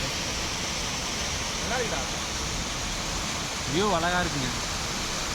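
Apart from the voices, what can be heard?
rushing water of a stream or waterfall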